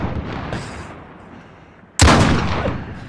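Gunfire in Call of Duty Warzone (Modern Warfare) cracks out as a single loud, sharp shot that rings and fades slowly, after a stretch of quieter background rumble.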